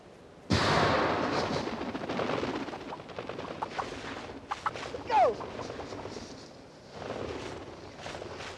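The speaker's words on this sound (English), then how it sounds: "The use of a cannon net, powered by rockets or mortars" A rocket-powered cannon net fires over baited wild turkeys, a sudden sharp blast followed by rushing, flapping commotion and scattered noise, with a voice speaking in the background.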